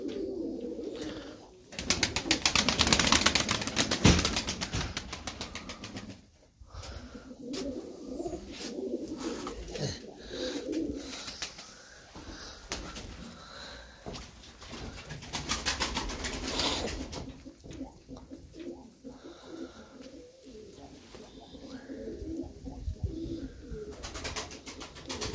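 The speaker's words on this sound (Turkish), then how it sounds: "Çok kuş var." Tumbler pigeons in their coop coo steadily and close up, with repeated soft calls layered over one another and occasional brief wing flutters.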